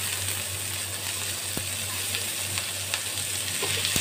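Chopped onion sizzles steadily in hot oil in a pan, a loud continuous frying hiss with faint clicks and no talking.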